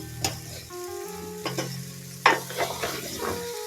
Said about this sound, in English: Give them a good stir, guys. Stir very well.